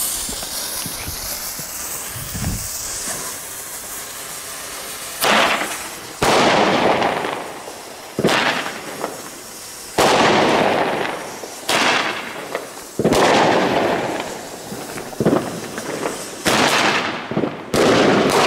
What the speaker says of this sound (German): Sternverbund mit dem Flashbang